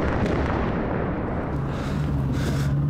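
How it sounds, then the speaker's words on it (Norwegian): Dense, sustained rumbling boom from an American bomb exploding in war-torn Kobani, Syria, a continuous low roar filling the whole stretch without any voices. "Amerikansk bombe."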